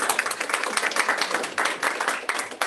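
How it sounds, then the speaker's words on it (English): Scattered clapping fills the room at a school board of directors meeting as the principals are applauded. The claps are dense and uneven, with moderate volume and no voices over them. "let's just give all of our principals a round of applause"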